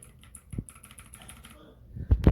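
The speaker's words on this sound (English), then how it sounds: "let's use the keyboard" A keyboard is tapped while Linux is installed on a tablet. A few soft key clicks are followed by heavier thumps near the end, all close up and brief.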